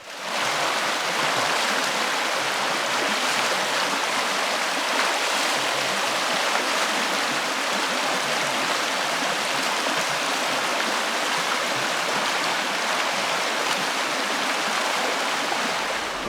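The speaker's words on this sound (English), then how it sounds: "this river was no obstacle to us, and we were only too happy to wade through it" A river in Scotland rushing steadily while walkers wade across it, with a loud broadband wash of flowing water that holds without pause.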